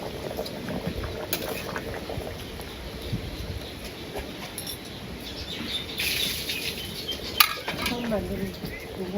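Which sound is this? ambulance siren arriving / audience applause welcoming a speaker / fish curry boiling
fish curry boiling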